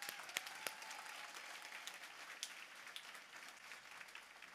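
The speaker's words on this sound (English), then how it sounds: "can we give Rudy and his team another giant round of applause for this" Applause from a conference audience at a real estate keynote event, a fairly faint, steady patter of clapping with a few sharper claps standing out, continuing across the whole stretch.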